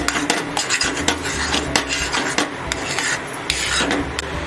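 A spoon scrapes and stirs besan zunka, a thick gram-flour dish, in a pan, giving continuous close rasping and clinking strokes against the metal with no voices.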